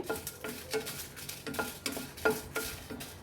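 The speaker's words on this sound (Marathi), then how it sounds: "याच्यासोबत मी आता हे वाटण्याकरता 4-5 मिरची असे भाजून घेणार आहे" Four or five green chillies roasting in a pan for a flaxseed chutney, with soft, regular scraping strokes of a spatula at about two per second over a faint sizzle, quiet and close.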